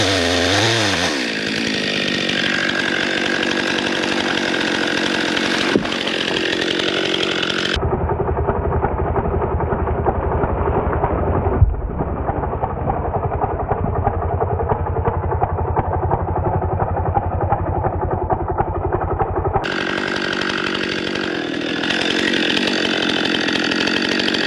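A chainsaw cuts to fell a tree in woods beside a big sugar maple while clearing a road, its loud close engine whining steadily, dropping to a lower rough idle mid-cut before revving high again.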